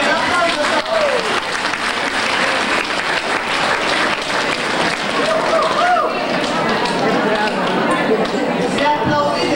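Dense audience applause fills a room at a family celebration, sustained and loud for the whole stretch, with scattered voices mixed into the clapping.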